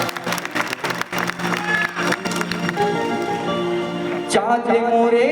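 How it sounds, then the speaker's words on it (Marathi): An audience claps at a live Shakti Tura performance, a patter of applause that swells and thins over sustained musical tones, with some voices mixed in. "छान आहे ना टाळ्या"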